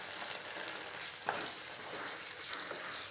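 Buttermilk kuzhambu stirred in a pot over a medium flame, a steady sizzle with a few soft scraping strokes, close and moderately quiet.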